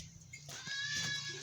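A goat in a farm pen gives a short, strained bleat that rises out of quieter background shuffling, close by and moderately loud, with no speech.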